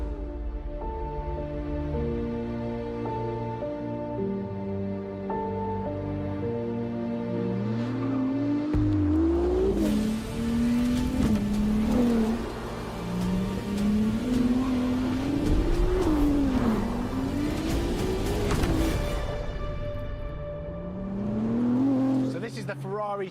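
A Ferrari 296 Speciale sports car accelerates on the road, its engine rising and falling through repeated revs and gear changes, loud and close with a strong tonal whine, and a voice speaks over it.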